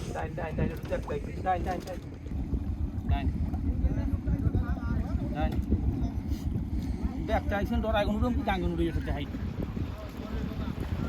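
A tourist boat approaches across open water on a river where people are fishing for hilsa, with a continuous motor drone and wind noise while people talk over it.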